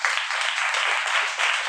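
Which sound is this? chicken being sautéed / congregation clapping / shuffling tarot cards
congregation clapping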